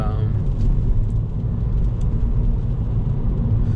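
Road noise inside a 2010 Kia Forte Koup SX automatic while driving: a steady low rumble and whir of engine and tyres, fairly loud and constant throughout, with no one speaking.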